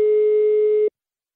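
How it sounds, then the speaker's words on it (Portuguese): A steady electronic telephone line tone rings out loud and clean for just under a second while a call is being placed, then cuts off abruptly into silence. "Eu vou ligar agora. Vou ligar pra Elisa"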